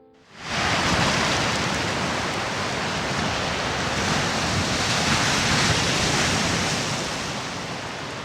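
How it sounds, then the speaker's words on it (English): Waves pound a black volcanic beach in Iceland, a loud, continuous roar of surf that swells in quickly and holds steady, broad and near, with wind noise mixed in and no voices. "they are washed up on the black volcanic beach to be pounded by the waves"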